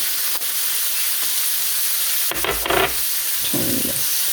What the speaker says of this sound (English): Keep things moving so that nothing burns